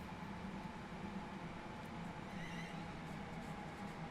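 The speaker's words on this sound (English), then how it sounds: "You can hear the whine as well on the traction motors when they get going." A Class 380 electric train in Train Sim World 4 hums along with a faint, steady traction motor whine over a constant low rumble, quiet and even throughout.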